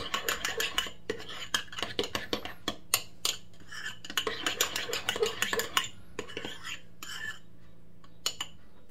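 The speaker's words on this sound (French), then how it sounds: "Je mélange le tout. Et vous obtenez une sauce burger." A utensil mixes burger sauce in a bowl, making rapid repeated clinks and scrapes against the sides in quick bursts, with short pauses and a low steady hum underneath.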